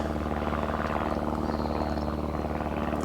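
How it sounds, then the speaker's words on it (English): A propeller aeroplane flies overhead at a farm fishery during a fishing match, a steady loud droning hum that fills the whole clip without pause. "I'm talking a bit loud because the aeroplane's above me"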